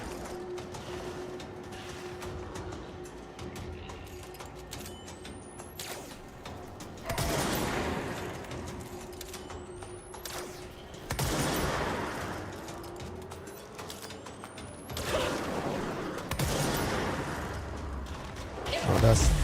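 Gunfire in the video game Control: several loud bursts of rapid shots break out every few seconds over a low mechanical hum, with a voice faintly present.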